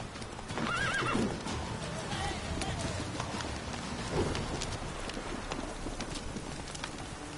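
Horse neighing with clip-clop hooves from the horse Roach in The Witcher 3 video game, a whinny near the start followed by steady trotting hoofbeats, with game ambience beneath.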